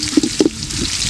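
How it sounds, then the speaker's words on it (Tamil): Chopped onion sautéing lightly in hot oil for a Tamil egg paniyaram gravy, with a close, soft sizzle and a few brief stirring scrapes and bubbling pops. "வெங்காயம் போட்டு லைட்டாக வதக்கணும்."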